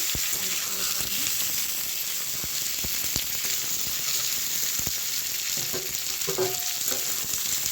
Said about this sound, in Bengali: আলুগুলো দিয়ে ভালো করে ভাজা করে নেব